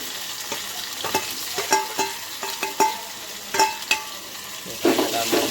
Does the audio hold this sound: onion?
yes